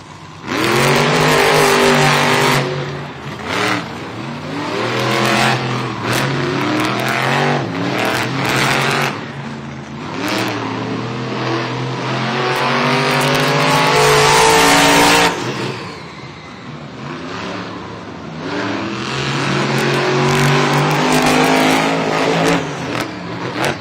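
Monster trucks racing in a stadium at a San Diego Monster Jam event, engines roaring loud and close with repeated revving surges and gear-shift sweeps rising and falling, a brief dip midway before accelerating again.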